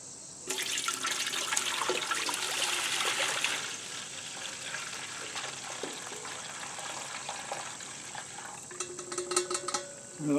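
Water splashing and trickling into a dye pot made from a possible plant source of pink dye, with clinks and stirring sounds. The sound is continuous and moderately close, then turns patchier and quieter.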